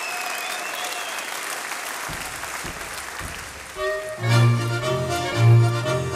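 Hearty applause rises for a brass band after a march, with a crowd clapping steadily for several seconds before the band's instruments strike up loudly and the clapping fades beneath the music.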